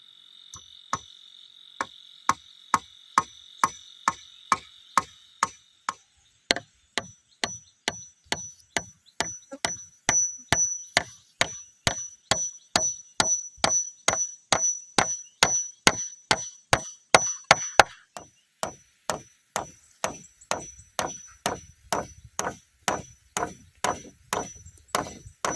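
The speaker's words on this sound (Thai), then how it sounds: "ก็เอาตะปูเนี่ยมาตอกเลยเนาะ" Nails hammered into wood while a farm field hut is built: a long run of sharp, steady hammer blows, some quicker and some spaced out, close and loud, with faint insect or frog calls in the background early on.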